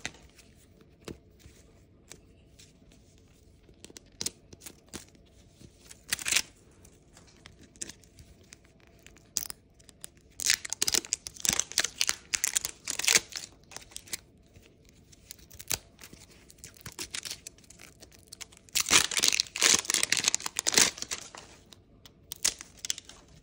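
Crinkly plastic toy packaging for an LOL Surprise Winter Disco doll is unzipped and torn open, giving bursts of rasping, crackling tears and rustles, loudest in clusters near the middle and end, with quieter handling noises in between.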